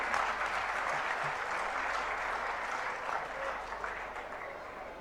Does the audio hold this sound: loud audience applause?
yes